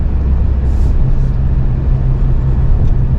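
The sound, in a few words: 2024 Toyota Camry TRD driving down the road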